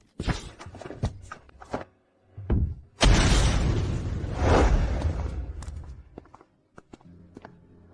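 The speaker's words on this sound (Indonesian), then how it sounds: "Mobilnya akan meledak." A car explodes in a drama film: a sudden, loud, broad boom arrives after scattered thuds and footsteps, then a long rumbling roar slowly fades under faint debris clatter.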